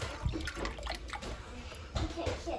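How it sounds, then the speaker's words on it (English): Beef broth pours into a pot holding a pot roast, a close, soft liquid gurgle and splash running throughout at low level. "So I'm adding some beef broth"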